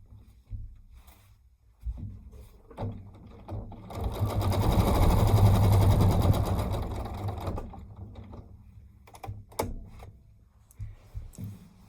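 A domestic sewing machine stitches through a layered quilt in a steady whirring run that swells and then fades, with scattered clicks and handling noises before and after.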